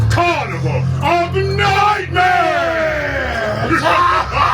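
Loud, sustained yelling and shrieking from several voices at once, rising and falling in pitch, wild and close, at a Halloween Horror Nights carnival-themed scare event.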